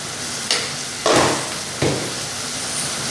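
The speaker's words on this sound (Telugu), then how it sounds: "ఒకసారి బాగా కలుపుతాం." A spoon stirs chili powder and coriander powder into vegetable curry frying in a pan, with three scraping strokes over a steady, loud sizzle.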